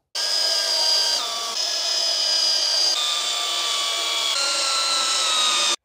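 Screws are driven by a power tool to fasten a post anchor base, a continuous high whining drive with brief pitch shifts between screws, close and steady without speech.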